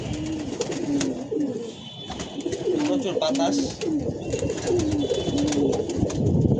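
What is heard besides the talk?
pigeons cooing, young pigeons in a cage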